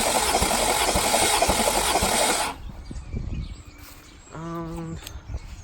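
An engine on a GS300 turbo build cranks over loudly during a cylinder compression test, a rough rhythmic churning that cuts off abruptly midway, leaving quiet room noise and a brief tonal beep near the end.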